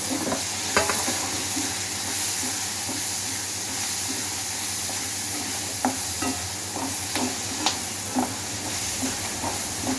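Tomatoes and curry leaves sauté in a pan for a village-style country chicken fry, a steady close sizzle with occasional stirring clicks and scrapes throughout.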